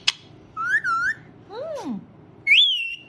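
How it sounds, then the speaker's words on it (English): A green parrot whistles nearby in a series of loud, clear phrases: a wavering tone, a swooping downward slide, then a bright high note, with short gaps between them. "Very nice whistle."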